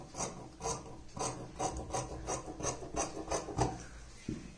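Scissors cutting through sleeve fabric for tailoring, a close, quiet run of rhythmic rasping snips at an even pace, about eight strokes with no talking.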